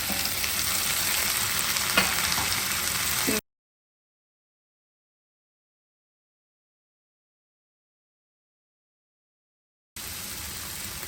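Onions and green chillies sizzle in a pan with tomatoes added, cooking for a mutton keema omelette fry; a steady, close frying hiss with stirring scrapes runs for a few seconds, then cuts to silence and returns.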